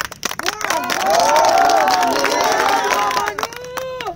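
A crowd at a celebration cheers and claps for maman Guinée, a loud burst of whoops and applause swelling for several seconds with overlapping shouting voices.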